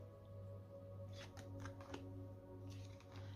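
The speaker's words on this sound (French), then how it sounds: "Allez, c'est parti, on prend 3 cartes." Oracle cards are shuffled and drawn by hand, several quick papery riffles and slides, faint and close with a low steady hum behind.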